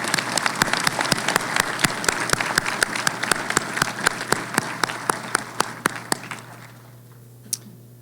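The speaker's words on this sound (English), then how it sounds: "Let's have another round of applause for all of our PhD graduates." A graduation ceremony audience applauds PhD graduates with brisk, many-handed clapping that fills the hall, then thins out and fades to a few stray claps near the end.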